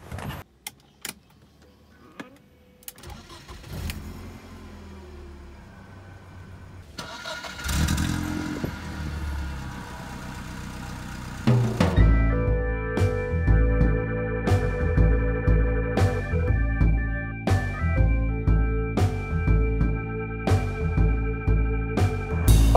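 A 1998 BMW E36 318i with a manual gearbox: after some rustling and key handling, the engine cranks and catches, then runs steadily as the car pulls away, with a busy, rhythmic layer of sound on top.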